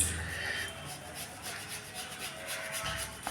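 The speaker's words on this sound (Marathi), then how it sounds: "अशा पद्धतीने तो किसून घ्यायचा गूळ म्हणजे बारीक करून घ्यायचा" Jaggery grated by hand for a raw mango drink, a series of soft rhythmic scraping strokes, close and fairly quiet, with no talk.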